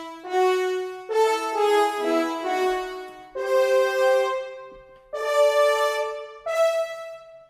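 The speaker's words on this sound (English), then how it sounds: "I basically loaded in industry brass for the horns patches" Six horns from the Cinesamples Musio Industry Brass library play a phrase of short, bright brass notes in clear separate bursts with brief gaps, close and alone with no other sound.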